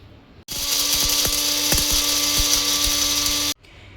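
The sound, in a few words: mixer grinder grinding roasted spices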